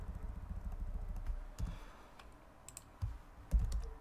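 Typing on a computer keyboard sounds as faint, scattered key clicks at close range over a low background rumble.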